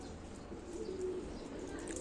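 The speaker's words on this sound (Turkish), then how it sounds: "Kuşlar direkt öz Ankara kuşu arkadaşlar. Oyun kuşu." Ankara tumbler pigeons, a breed of play birds, give a soft, low coo near the middle, faint and brief against quiet background hum.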